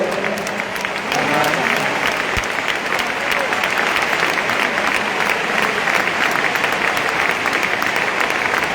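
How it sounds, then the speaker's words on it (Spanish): A church congregation applauds loudly and steadily during an afternoon worship service at a district convention, a dense, sustained wash of clapping that runs unbroken throughout. "Ese aplauso."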